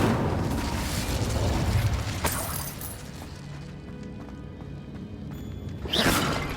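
Fiery spell blasts from the Incendio charm in Hogwarts Legacy, a roaring rush of flame that swells at the start, dies back to a low crackle, then bursts again near the end, fairly loud and close.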